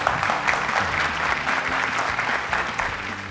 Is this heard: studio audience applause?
yes